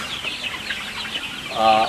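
Free-range kampung chickens clucking inside coops on a small urban farm in East Jakarta, with soft scattered clucks and rustling throughout and a clearer, louder cluck rising near the end.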